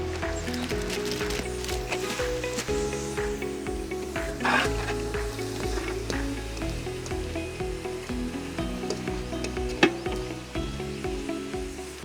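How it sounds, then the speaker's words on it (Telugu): Sliced onions hit hot oil in a pan for mutton tawa fry, giving a steady hissing sizzle with occasional small pops and clinks, close and continuous throughout. "ఆయిల్ వేడైపోయింది, దీంట్లోనే మనం సన్నగా తరిగిన ఉల్లిగడ్డ యాడ్ చేద్దాం."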